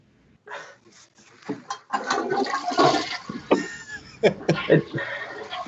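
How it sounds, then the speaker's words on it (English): A toilet flushes nearby, a rushing, gurgling water swell that builds and churns for several seconds, with scattered chuckles and coughs mixed in over the running water. "Flush the toilet."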